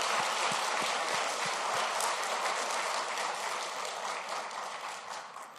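A church congregation claps together during a 93rd anniversary Sunday service, a dense, steady wash of many hands that holds for several seconds and tapers slightly at the end, with no voices over it.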